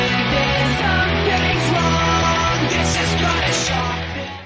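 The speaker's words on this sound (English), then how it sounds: "There is a drumless version of the song, which sounds like this." Drumless backing of a pop-punk song, with loud, dense guitars and bass playing steadily and without a break, then fading slightly at the end.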